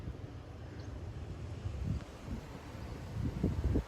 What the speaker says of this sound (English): Well, there's the wind.